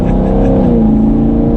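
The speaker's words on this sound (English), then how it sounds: "We'll do a small acceleration as the Camaro passes us." 2020 Chevrolet Camaro LT1 with a V8 and stealth exhaust in automatic mode, accelerating gently past at part throttle with a smooth, steady low engine drone, close and fairly loud.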